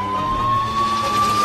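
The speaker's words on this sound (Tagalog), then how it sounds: "napindot ko pa yung wangwang at ang sirena ng mobil" A police car siren wails in a steady high tone over a low engine rumble, loud and close for a brief moment with no talk.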